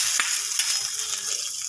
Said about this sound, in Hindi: अब हम इसमें तड़का लगा रहे हैं